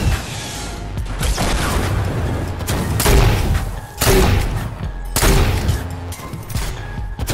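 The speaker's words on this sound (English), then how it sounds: "Grenades are hitting him." Grenades explode in the Fortnite High Explosives mode, a series of loud booming blasts about a second apart, close and heavy, over constant battle noise.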